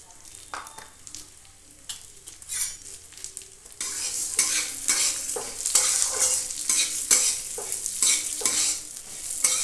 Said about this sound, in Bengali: গরম তেলের মধ্যে দুটো শুকনো লঙ্কা দিয়ে দিচ্ছি, দিয়ে ডালটা হালকা করে ভেজে নেব